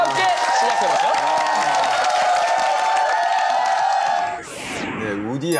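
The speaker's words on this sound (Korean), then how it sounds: "여러분 박수 함께 시작해볼까요?" Audience applause at a Korean televised magic show welcoming card magician Woody Aragon: a dense, sustained wash of clapping and crowd noise lasting about four seconds, then thinning out as it fades.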